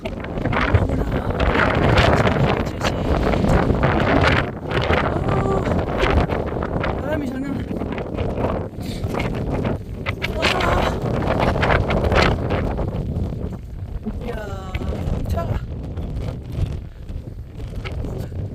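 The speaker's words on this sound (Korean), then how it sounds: "바람이 너무 많이 불어요" Strong wind roars across a mountaintop at Hambaeksan in Taebaek, Gangwon, buffeting the microphone in loud continuous gusts, with a voice talking through it.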